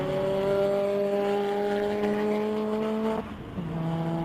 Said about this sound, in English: cars come past us on the start and finish straight